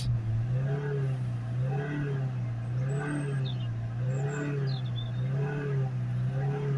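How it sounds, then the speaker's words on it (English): A Ford S-Max 2.0 diesel engine with a blocked particulate filter hums steadily as the car accelerates, its pitch rising and falling in repeated waves, with faint high chirps above. "So you can see there now, we're accelerating the vehicle now."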